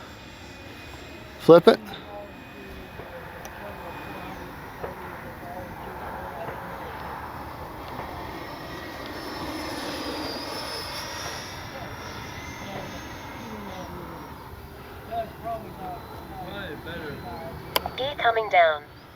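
A Freewing 80mm F-22 RC jet on its maiden flight gives off a steady, distant turbine whoosh that swells and fades, with a few sharp clicks near the start and end and someone talking briefly.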